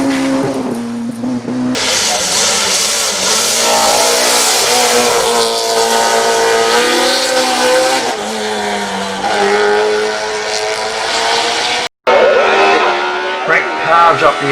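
A 1960s race car driven hard in an Australian motor race, engine roaring loud and close with rising and falling revs as it takes corners, a brief cut near the end before the engine noise resumes.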